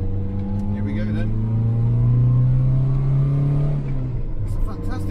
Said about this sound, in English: It's a fantastic exhaust note